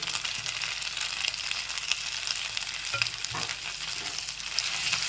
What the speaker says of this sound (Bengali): আর দিয়ে দিচ্ছি একটু নেড়ে চেড়ে নিচ্ছি